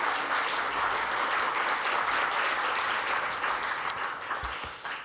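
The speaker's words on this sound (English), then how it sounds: "So please give them a round of applause" Audience at an awards ceremony breaking into a sustained round of applause, dense and steady throughout before thinning slightly near the end, with no voices over it.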